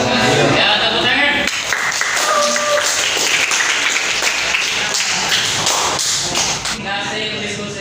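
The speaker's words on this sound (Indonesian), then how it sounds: "Ya, tepuk tangan." A classroom of students applauds after a group discussion presentation, a dense burst of clapping that starts loud and carries on steadily, with voices mixed in.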